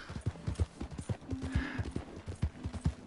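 Horses' hooves clip-clopping in the western game Red Dead Redemption 2, a quick uneven run of hoof strikes close by, with a short horse snort or whinny partway through.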